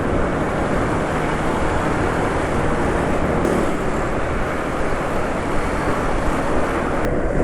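A vehicle engine drones on the road while overtaking other vehicles, heard as a loud, steady, rushing roar of engine and road noise with no pauses.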